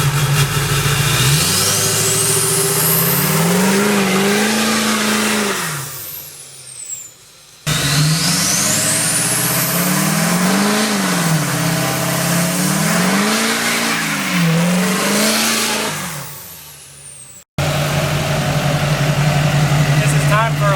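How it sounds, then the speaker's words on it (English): A car engine revs hard in repeated rising and falling surges during a burnout, loud and close, with the roar cutting out briefly twice between bursts and people talking over it. "I can do like a little burnout and then just kind of roll in it a little bit"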